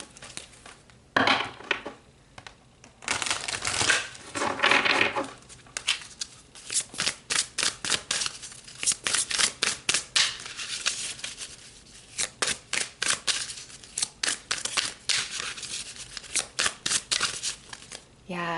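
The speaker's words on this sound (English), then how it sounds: "let's pull some more cards" Tarot cards shuffled by hand close up, a rhythmic run of crisp riffling flutters and soft slaps, with a voice talking over parts of it.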